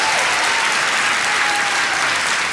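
A dense wash of audience applause at a business conference talk, steady and loud for the whole stretch, with no talking over it.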